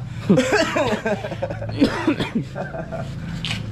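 A man with a cold coughing in short rough bursts, mixed with throaty chuckling sounds, close to the microphone in two clusters before trailing off.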